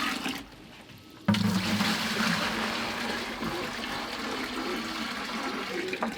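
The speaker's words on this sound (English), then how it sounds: "So the first thing I need to do is fill the buckets up with water, just about 4 inches in the bottom of each one." Water runs steadily into plastic buckets on a pigeon farm, a broad close gushing hiss that starts abruptly after a brief quiet moment and continues evenly to the end.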